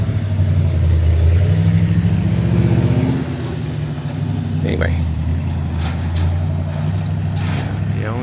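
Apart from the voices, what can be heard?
loud truck pulling up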